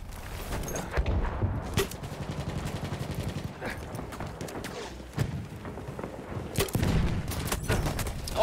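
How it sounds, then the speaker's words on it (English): Heavy gunfire from many soldiers in the video game Battlefield 1 on the Monte Grappa map, with dense overlapping rifle and machine-gun shots, loud booming bursts near 1, 5 and 6.5 seconds, continuous and close throughout. "the amount of people shooting me there"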